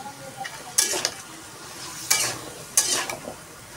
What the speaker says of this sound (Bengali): ডাটাটা আর আলুটা সুন্দর করে আমি কষিয়ে নেব।